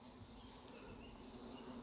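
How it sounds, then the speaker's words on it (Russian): Many bees hum in a steady, even drone near a swarm outdoors, fairly quiet and continuous, with no speech. "здесь тоже пчел много."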